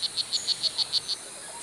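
A tiny male blue jeans dart frog in the Costa Rican jungle calls to attract a mate: a quick series of eight high, chirping buzzes in an even rhythm, near and clear against faint insect background.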